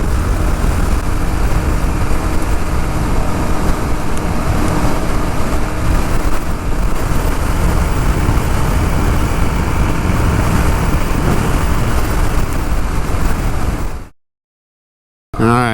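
A KTM 701 Enduro motorcycle with a windshield rides at speed, its engine droning under constant loud wind rush for about fourteen seconds before the sound cuts out abruptly to near silence, then resumes briefly.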